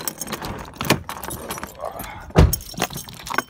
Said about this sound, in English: Grab her keys out.